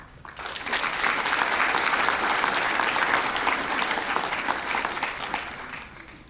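Sustained audience applause at the Ivy Day ceremony as the Cardinal Key orator is welcomed to the podium, a dense, steady clapping from a crowd that swells quickly and holds for several seconds.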